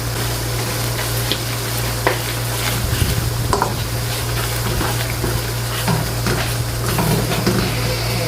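Beef sautéing in a hot pan for lasagna, a loud continuous sizzle with frequent scraping and stirring clatter from a utensil against the pan, close up, with no talk.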